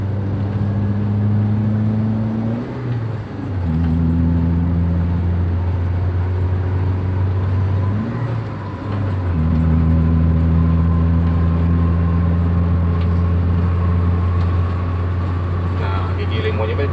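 An old Toyota Avanza pulls in fifth gear at about 3000 RPM after an engine carbon clean, giving a steady mid-pitched drone with a brief dip partway through. Someone talks over it throughout.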